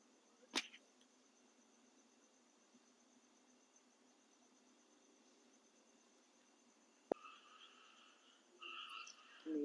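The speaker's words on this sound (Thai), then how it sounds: "เสียงกบเสียงเขียด" Frogs croak faintly and steadily in the background, punctuated by a couple of sharp clicks and a brief louder rustle near the end, with no voices.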